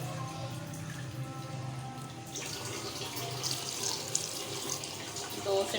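Water runs from a tap into a vessel for strawberry sharbat in a home kitchen, a soft steady gush that brightens partway through, with faint clinks near the end.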